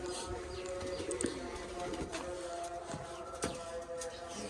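Pigeons coo softly in a loft, low repeated calls overlapping against steady background noise, with occasional taps and faint voices nearby.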